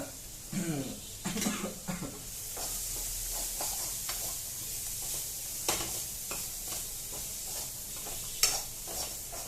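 Egg fried rice sizzling and frying in a pan at home while being stirred, with steady scraping stir strokes and a soft continuous sizzle, close and moderately loud.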